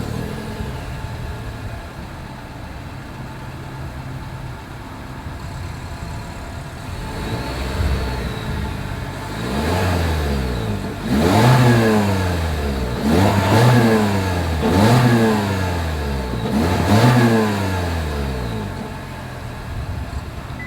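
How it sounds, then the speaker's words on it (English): A 2021 Toyota Corolla Hatchback idles with a low exhaust drone, then its engine is revved several times, each rise swelling loudly and falling back in a rhythmic series of sharp blips. "As always, here is that exhaust clip."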